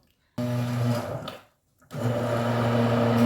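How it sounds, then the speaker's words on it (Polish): An old, barely working blender blends juice at home, running in two loud steady bursts with a short pause between, its motor hum strong and continuous. "Mam w ogóle blender, który już ledwo żyje"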